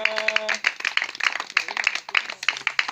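Children clap hands in a group at an orphan support event, with a rapid, somewhat uneven patter of claps throughout, close and fairly loud, with faint voices mixed in.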